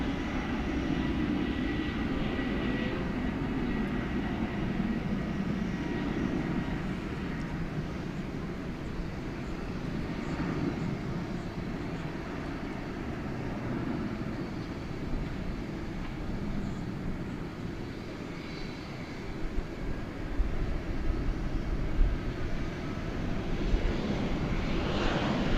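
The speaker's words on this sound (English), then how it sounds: "Here goes American Flight 2430 to the city adjacent to the base, San Francisco." An American Airlines Airbus A321neo takes off at Dallas Fort Worth International Airport, a sustained low engine rumble that stays fairly even before growing louder and rougher near the end.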